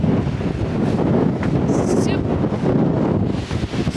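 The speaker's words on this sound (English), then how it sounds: "It's really windy." Strong wind buffets the microphone at sand dunes near Idaho Falls, a loud continuous roar and rumble with gusty swells throughout, no clear talk over it.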